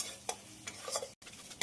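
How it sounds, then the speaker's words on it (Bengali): Spices fry in a pan for vegetarian butter paneer as they are stirred, giving a quiet sizzle with three or four brief scraping strokes of a spoon, close and soft. "মশলাটা ভাজার জন্য খুব ভালো করে নেড়ে দেবো।"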